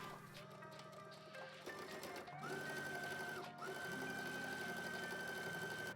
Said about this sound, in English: Edge stitch the hem all the way around.